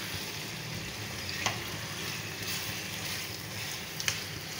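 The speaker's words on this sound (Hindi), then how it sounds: "अब हम इसको फ्राई करेंगे खूब अच्छे से।" Chicken frying with garlic ginger paste in a karahi, a continuous low sizzle heard close, with a couple of faint utensil taps and no talking.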